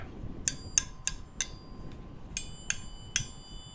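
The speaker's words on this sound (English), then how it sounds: "they make perfect wind chimes because they ting really nice" Loose metal silverware forks tinging against each other like wind chimes, about eight bright, ringing metallic strikes spaced irregularly over a quiet background, each leaving a short shimmering decay.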